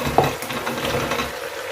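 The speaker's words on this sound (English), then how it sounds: "Do not forget to stir from time to time to avoid your meat from sticking to the pot" Meat and potatoes stirred in a cooking pot, a close scrape of the spoon followed by steady sizzling and frying underneath.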